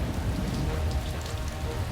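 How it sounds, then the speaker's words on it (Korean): Steady rain falls continuously during an archaeological burial-mound excavation in Kazakhstan, a dense, even patter with no pauses and no voices. "발굴 첫날부터 비가 오기 시작하더니"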